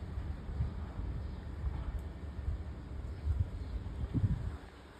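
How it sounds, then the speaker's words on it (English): Wind blows outdoors in a garden, a continuous low rumbling buffet against the microphone with a few stronger gusts toward the end. "Wind's blowing."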